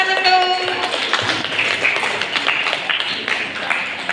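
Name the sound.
applause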